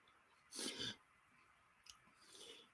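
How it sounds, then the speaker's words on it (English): A person chewing food near the microphone, with two bursts of wet mouth noise separated by quiet pauses and no speech. "can you hear me chewing?"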